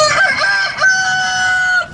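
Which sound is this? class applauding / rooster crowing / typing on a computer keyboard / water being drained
rooster crowing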